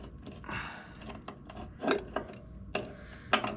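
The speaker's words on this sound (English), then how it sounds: "a 1/2 inch ratchet with an extension on it." A 1/2 inch ratchet with an extension clicks in short quiet bursts while working on a zero turn mower oil seal, light metallic ticks spaced irregularly, close by.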